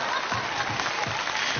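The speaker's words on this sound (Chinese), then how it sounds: "大家掌声欢迎" A studio audience at a Chinese family TV game show breaks into applause, an even, sustained patter of many hands clapping with no talking over it.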